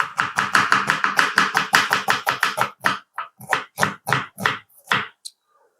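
Onions chopped into small pieces with a knife on a cutting board, a fast, even run of loud close taps that slows into spaced single chops before stopping.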